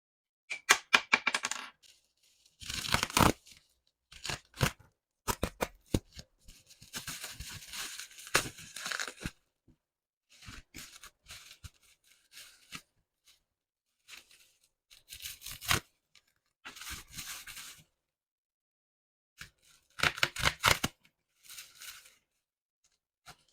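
A stationery set's packaging is opened up close, with intermittent bursts of crinkling, tearing and rustling separated by short quiet gaps, and no one speaks.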